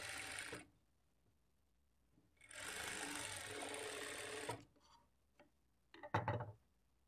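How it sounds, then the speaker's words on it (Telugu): A sewing machine stitches the front part of a blouse in two bursts, a short run and then a longer steady whirring run of about two seconds, followed by a few soft clicks and a brief louder clatter near the end. "అలాగే ఇక్కడ కూడా ఒక స్టిచ్ వేసుకోవాలి"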